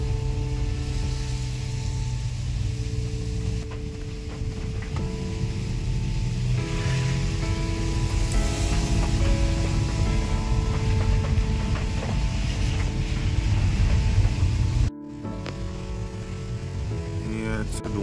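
A swollen Teesta river rushes past in a continuous loud roar of churning water, with a steady droning hum layered over it and a brief dip near the end.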